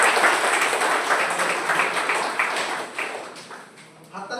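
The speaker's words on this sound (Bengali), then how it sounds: "এনাদের তিনজনের জন্য একটু জোরে হাততালি।" Audience in a hall at a Modicare agriculture training session applauding three participants, a dense steady wash of many hands clapping that thins slightly near the end, with a voice or two faintly underneath.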